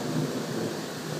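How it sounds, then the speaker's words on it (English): Thunder rumbles on through a heavy rainstorm just after hail has stopped, a steady low roar of rain and rolling thunder filling the whole stretch with no voices. "the thunder's still going"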